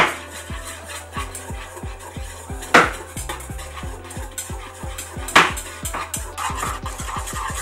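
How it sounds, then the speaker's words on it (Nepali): Momo sauce stirred in a metal pan, a utensil scraping and knocking in a fairly regular rhythm with two sharper clanks, close up with no voices. "एकछिन मज्जाले चलाउने यसरी"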